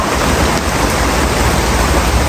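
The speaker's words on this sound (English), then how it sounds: "It's raining out there." Steady rain falls on a 2003 sailboat motoring across a windless stretch of the Pacific between Papeete and Fiji, a loud, even, broadband hiss with no break and no voices.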